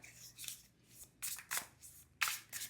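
Tarot cards being shuffled and pulled by hand, several short papery riffles and slides in quick bursts, close and soft, with no talking.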